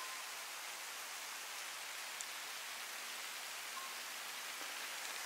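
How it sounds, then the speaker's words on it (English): Rain begins falling on a hiking trail near a gold mine marker, a faint, even hiss of drops on surfaces that continues steadily with no talking. "It's starting to rain."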